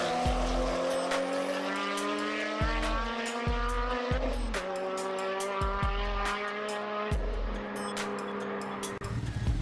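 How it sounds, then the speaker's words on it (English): Cars street race in Albuquerque, New Mexico, engines revving hard through repeated gear shifts with sharp rising and dropping pitch, tires squealing, roaring close and loud with no talk. "This is footage of Albuquerque, New Mexico street racing, recorded by 1320 themselves."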